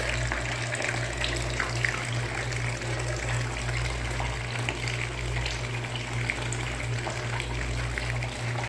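Bath tap running water onto a Lush Bunch of Carrots reusable bubble bar, a steady continuous gush and splash into the tub with a low hum underneath, unbroken for several seconds and free of talk.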